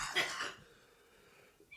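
One harsh, close cough from a man on a podcast, a single loud burst that fades into quiet breathing.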